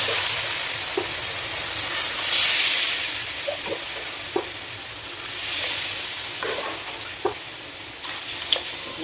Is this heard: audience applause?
no